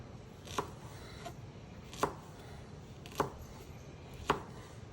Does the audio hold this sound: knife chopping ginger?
yes